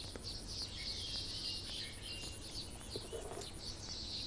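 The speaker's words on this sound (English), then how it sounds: "you can probably hear the bird song" Bird calls chirp repeatedly over a steady high insect-like trill and low background hum, fairly distant, with no one speaking.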